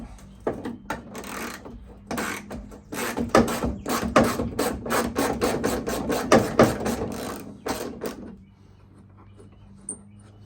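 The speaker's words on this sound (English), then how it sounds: "once it's broken free, go ahead and drive that one all the way out" Screw being driven out of a Ford Bronco II vent window with an 11mm socket, a rapid series of close rasping ratchet clicks that speeds up and then stops, followed by quiet.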